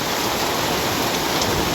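Hail and rain pour down in a continuous, loud, even hiss with no pauses and no voices.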